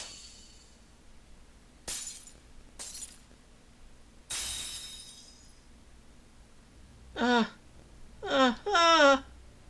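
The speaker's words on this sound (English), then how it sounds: "There, I smashed it to pieces." A shattering crash from an object smashed to pieces in Fate/Grand Order, with a sharp glassy break followed by two more crashes and a trailing spray of fragments, then short whimpering voice sounds at the end.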